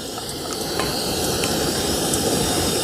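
A steady, loud roaring hiss from a gas stove burner cooking conch curry continues without a break, with faint scattered ticks and crackles on top.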